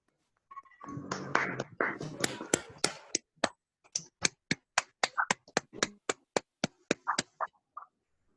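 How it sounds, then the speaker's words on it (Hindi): A short burst of clapping from a few people at an online Shrut Panchami religious gathering, then sparse, evenly spaced single claps that slow and fade out. "मैं आप सबसे अनुरोध करता हूं कि एक बार जोरदार तालियां बजाकर"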